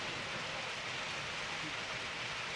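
Steady rain falling outdoors during a hash-making workshop, a dense continuous hiss of drops with no distinct breaks, moderately loud and close throughout.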